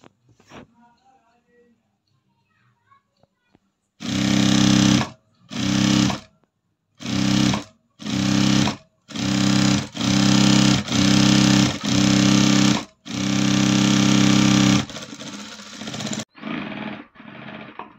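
A sewing machine stitches a side seam on a 36-inch chudidar top, running in about eight loud bursts of a few seconds each with short pauses between them. A lower, fainter rumble follows near the end.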